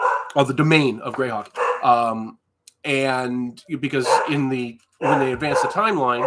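A dog barks and yips indoors, mixed in with continuous close speech from a person talking during a livestream.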